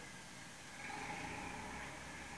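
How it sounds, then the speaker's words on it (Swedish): A low, steady engine drones outside a door, a tractor-like rumble heard faintly and continuously through the wall with no talking. "Det låter som en traktor typ."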